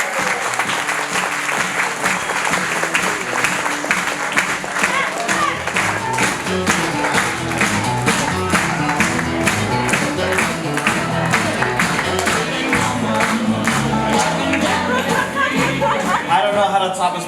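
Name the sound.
audience applause after a birthday speech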